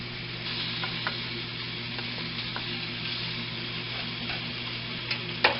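Bacon frying in a pan gives a quiet, steady sizzle with faint pops and crackles over a low kitchen hum.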